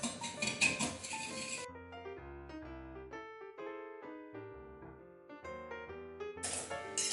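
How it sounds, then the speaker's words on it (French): Egg yolks whisked with brown sugar in a mixing bowl, brisk scratchy rattling up close for a moment at the start and again at the end, with plinking melodic music filling the stretch between and no talk. "Je vais ajouter le sucre roux et je vais venir immédiatement fouetter"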